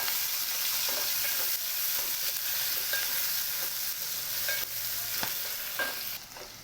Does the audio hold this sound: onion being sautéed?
yes